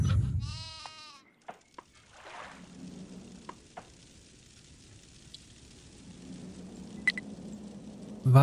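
Donkeys bray in the Die Siedler 4 strategy game, one harmonic bray near the start and faint animal calls later over quiet in-game ambience with scattered clicks.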